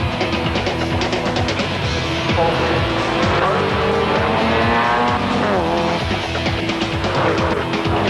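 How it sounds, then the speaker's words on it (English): Porsche 911 and Lotus production cars race at Symmons Plains circuit in a 1995 Australian GT round, their engines roaring loud and continuous, with tyres squealing amid a dense, busy mix of cars. "The Porsche of Richards took an early lead, followed by Fitzgerald, also on a 911 Porsche, and Zarafos in the Lotus"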